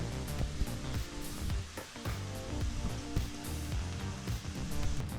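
Cooked rice stir-fried with mushroom sauce over a high flame hisses and sizzles continuously, with repeated clanks and scrapes of a spatula against the pan.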